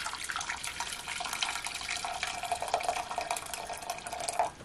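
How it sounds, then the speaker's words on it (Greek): Hot water pours from a tap into a cooking pot in a home kitchen, making a steady, continuous splashing stream that fills the pot with no talk over it. "Σε μια κατσαρόλα θα βάλουμε νεράκι ζεστό"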